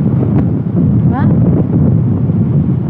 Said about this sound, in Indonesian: Anginnya menggelebuk.